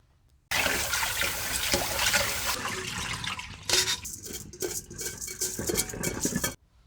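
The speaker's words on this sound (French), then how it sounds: "c'est de laver notre riz." Rice, a mix of white and brown grains, is washed in a bowl with water, producing close sloshing, swirling and grainy rubbing, then clinks and splashes as water pours off, ending abruptly in silence.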